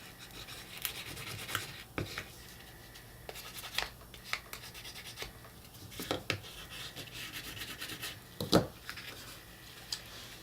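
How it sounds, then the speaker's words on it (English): Paper being burnished onto a handmade slipcase gives close, faint, intermittent rubbing and scraping strokes, with a few sharper scratchy bursts and no talking. "Give this a little burnish."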